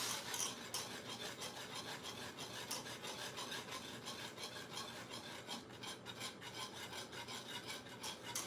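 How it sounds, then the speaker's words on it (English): A whisk scrapes steadily in a pot of pie filling cooking on the stove, a quiet, continuous rhythmic rasping and rubbing with no talking. "Yeah, because it says whisk constantly."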